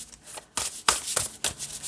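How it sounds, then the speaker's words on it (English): Large tarot cards from an animal-themed deck being shuffled by hand, giving several quick papery riffling bursts in an uneven rhythm, close and fairly quiet with no talking. "And it shuffles fine this way too."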